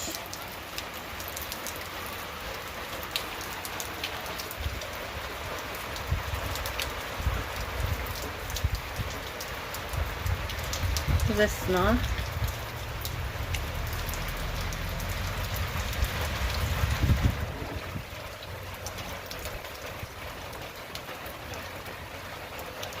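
Steady rain patters outdoors on surfaces, a broad continuous hiss that swells in the middle, with a brief spoken word partway through.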